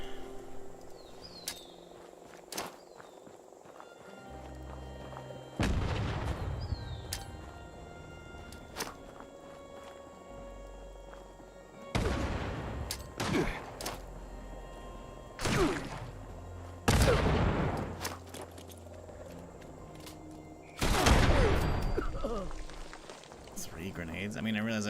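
Grenade explosions in Fallout 76, several separate loud bursts spaced a few seconds apart, each a sharp broadband blast with a short decaying tail, over a quieter game backdrop.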